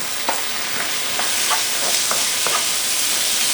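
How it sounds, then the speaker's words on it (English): Raw arborio rice and onion sizzle and fry steadily in a pan for a mushroom risotto, with a constant hiss broken by soft scraping stirs at irregular intervals and no voices. "we're going to toast the arborio rice with your onion."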